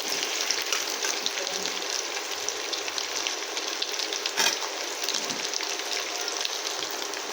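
Cut potatoes, washed and added to hot oil, frying in a pan in a home kitchen, a steady loud sizzle with occasional stirring scrapes and a brief louder burst partway through.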